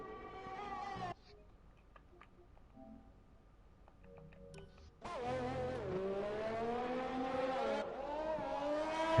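Formula 1 race car engine in F1 2020 on a flying qualifying lap at the China circuit, a high-pitched whine that fades briefly then roars back loud and rising through the gears, with a faint voice early on.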